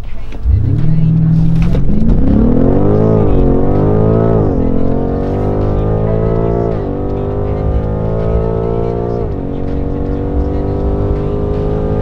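A BMW M5 F90 launching under launch control at full throttle, its engine surging from a low idle into a loud climbing roar with several distinct gear changes as it accelerates, heard from inside the car and steady throughout.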